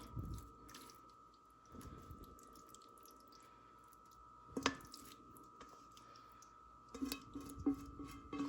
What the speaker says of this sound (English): So the slopping noises in the background, I apologize.